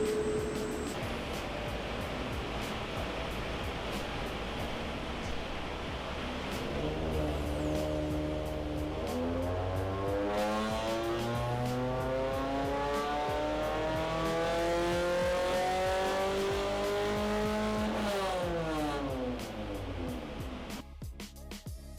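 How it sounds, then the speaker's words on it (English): Suzuki Swift Sport ZC31S engine on a dyno, revving up through the gears with rising harmonic sweeps, loud and steady over about twenty seconds, with faint background noise and no talk. "On the dyno, getting calibrated, ready for run number 1."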